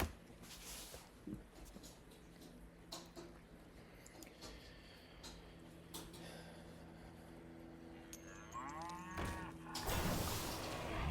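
A cow moo effect from the Cash Cow card in the Hearthstone video game, a short lowing call near the end amid quiet game chimes and clicks.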